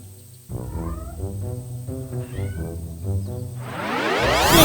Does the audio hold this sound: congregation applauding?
no